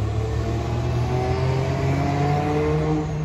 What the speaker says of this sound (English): There's another GRT New Flyer bus.